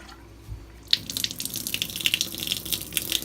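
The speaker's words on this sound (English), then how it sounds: "There was a lot of air inside, so we're just gonna let the water run." Water runs from a faucet through an Espring filter cartridge, starting abruptly after a quiet moment with sputtering splashes and gurgles as air escapes, then continuing as a steady stream with irregular bursts.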